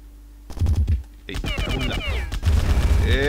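Gunfire in the video game Bad Bots comes in short, loud bursts of rapid shots, mixed with sweeping electronic game tones.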